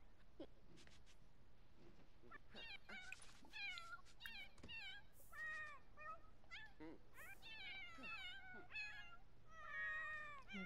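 Several cats in the Sims 4 video game meowing in quick repeated bursts, some drawn-out and whiny, fairly clear over a quiet background with no talk.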